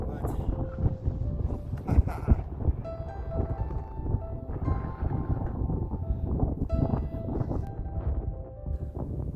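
Gusty wind buffeting on the summit of Wheeler Peak, New Mexico's highest peak, rumbling low and uneven in bursts beneath a person talking throughout.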